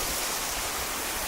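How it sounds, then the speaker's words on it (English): A waterfall spills into a creek beside the 13th green of a golf course in Balfour, British Columbia, making a steady, close rushing wash of water with no other sounds. "Here's the second part of the waterfall. Comes down and there's a creek right here."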